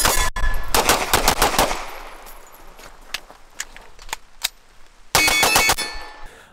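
Sig MPX 9mm carbine reload: a burst of sharp metallic clacks as the magazine drops and is seated, quieter ticks in between, then a loud final clack and ring as the bolt slams forward, all close up.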